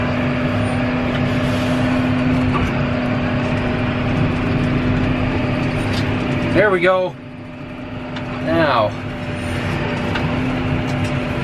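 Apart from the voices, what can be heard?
tractor engine pulling on icy driveway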